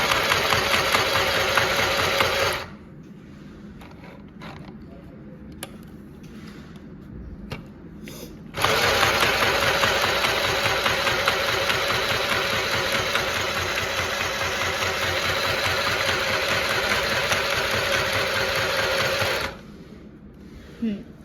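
Akira mini sewing machine stitching fabric, a loud steady motor whir that stops for several seconds of quieter handling, then runs again for a long stretch before halting.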